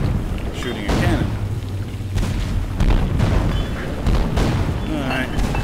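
Cannons fire in the Lego Pirates of the Caribbean video game, several heavy booms in uneven succession layered over game sounds and a continuous background, fairly loud and close.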